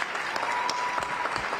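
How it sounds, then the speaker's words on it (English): An audience at a live state of the city address claps in a steady, dense burst of applause, heard briefly and fairly distant in a large room. "Give yourself a round of applause."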